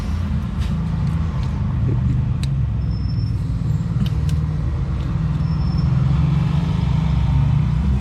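A van cruises along a mountain road in Ecuador, its engine and tyre rumble a steady, loud, unbroken drone from inside the vehicle with no talking.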